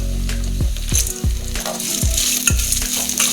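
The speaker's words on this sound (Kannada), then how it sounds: "ಉಳ್ಳಗಡ್ಡೆ ಹಾಕಿದ್ಮೇಲೆ ಸ್ವಲ್ಪ ಲೈಟಾಗಿ ಹಂಗೆ ಫ್ರೈ ಮಾಡ್ಕೋಬೇಕು" Onions frying in a pan with green chillies, garlic and curry leaves over a medium flame, a steady sizzle broken by several sharp spoon scrapes and knocks against the pan.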